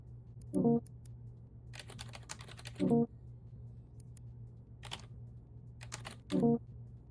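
Password being typed on a computer keyboard in short bursts of clicking keystrokes, a few separate clusters spread across the stretch over a steady low electrical hum, with no talk.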